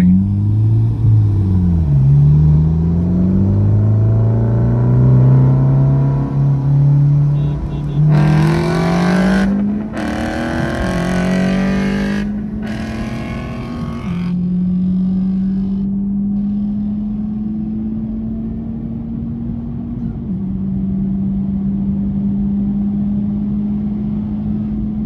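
A tuned Honda Type R roll-races a first-generation Mustang GT from a rolling 40: a loud engine climbs steadily in pitch, drops briefly at several gear shifts, then keeps pulling hard, heard close from inside the car.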